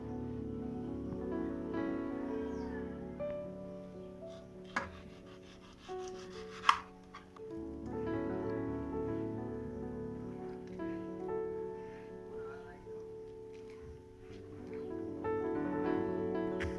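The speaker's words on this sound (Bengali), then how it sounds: "এইভাবে আমি সবগুলো আম কেটে নিচ্ছি কাঁচা আমটাকেও একটু কেটে নিচ্ছি" A knife chopping mangoes, both ripe and one raw green mango, on a board: a close, steady run of chops and scrapes with a few sharper knocks partway through, and no one speaking.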